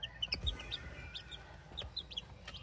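Day-old chicks from a McLean and white chocolate cross give soft, high peeps in short repeated bursts, faint and close, over a low background murmur.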